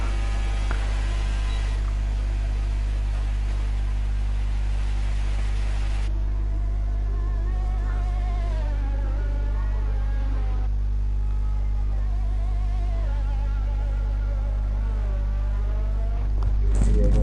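A racing video game car on the soft compound runs down the back straight in another car's slipstream. Its steady engine drone sits beneath a strong low hum while commentators talk over it.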